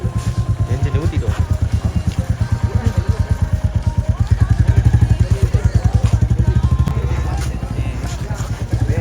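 Royal Enfield Classic 350 Bullet motorcycle engine running close by, a loud steady single-cylinder thump with a fast even beat that swells briefly midway as if lightly revved, then settles back.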